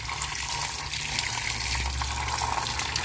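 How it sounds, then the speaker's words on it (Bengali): Tap water runs in a steady close gush as a tender young leaf is rinsed beneath the faucet, a continuous splashing flow with no talking. "চলো এটা এবার কলের জলেতে ধুয়ে নিই।"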